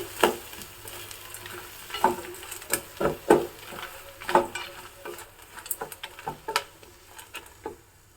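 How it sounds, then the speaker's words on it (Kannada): Grated coconut fries in a pan while a spoon stirs it, with a soft sizzle under repeated scraping and tapping strokes in an irregular rhythm, close by, and no talking. "ಒಂದು ಅರ್ಧ ಕಪ್ ಆಗುವಷ್ಟು ತೆಂಗಿನ ತುರಿ ಹಾಕಿದ್ದೀನಿ ಇದನ್ನು ಸಹ ಸ್ವಲ್ಪ ಫ್ರೈ ಮಾಡ್ತಾ ಇದ್ದೀನಿ"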